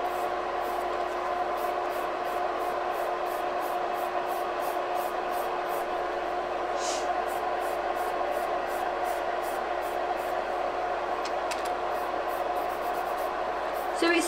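A hand nail file on its 150 grit side rasps steadily around the cuticle of an acrylic nail, with close, continuous rubbing strokes in a fairly even rhythm over a constant background hum.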